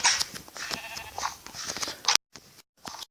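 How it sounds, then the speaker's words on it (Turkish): A sheep in the Minecraft video game bleats several times in quick, close, wavering calls, then gives two short bleats after brief silences. "Tek sarı koyunumuzun da ölmesini istemiyorum."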